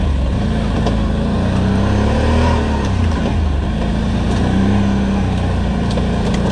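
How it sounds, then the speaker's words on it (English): A new 2020 Can-Am Outlander 650 XMR quad being ridden on trails, its engine droning loud and close throughout with rising and falling revs. "First ride in a new quad."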